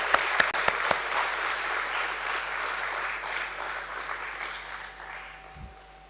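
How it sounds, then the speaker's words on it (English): An audience at a stock exchange listing ceremony for a tyre company welcomes a speaker with applause. A few sharp claps open into a moderate, steady wash of clapping that gradually fades, with a low hum beneath. "Let's welcome him with an applause."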